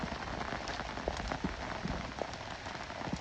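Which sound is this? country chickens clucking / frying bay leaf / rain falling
rain falling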